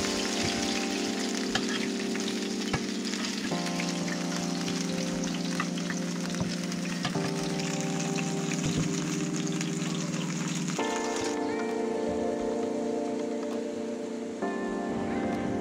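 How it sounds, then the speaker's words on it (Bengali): Taro fritters for kochur malabora frying in oil, a steady close sizzle and crackle that runs throughout with no talking. "আস্তে আস্তে কচুগুলো উল্টিয়ে পাল্টিয়ে এরকম গোল্ডেন ব্রাউন করে ভেজে নিতে হবে।"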